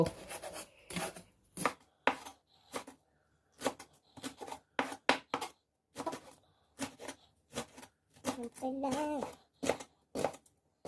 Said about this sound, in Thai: หั่นเลยครับผม หั่นซอย